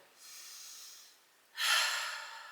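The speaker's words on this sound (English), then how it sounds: "We're just going to take another minute here just for some spinal deep breaths, really filling those lungs up and diaphragm." Deep diaphragmatic breathing during a restorative yoga relaxation: a soft, airy inhale followed by a stronger, longer exhale, close and quiet, with no talking.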